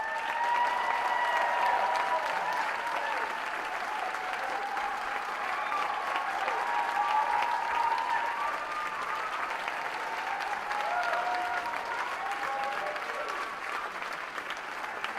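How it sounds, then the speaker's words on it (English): An audience at the Fast Pitch 2018 event applauds its finalists with sustained, even clapping that fills the hall, loud and continuous for about fifteen seconds, with faint voices mixed beneath. "So I'd like to invite our finalists back on stage for a round of applause."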